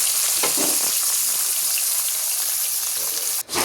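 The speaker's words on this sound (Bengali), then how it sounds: "তো এদিকে মাছগুলোকে একটু করে ভেজে নিচ্ছিলাম।" Pieces of fish fry in oil in a pan with a loud, steady sizzle and crackle, with a few faint stirring taps and a brief dip near the end.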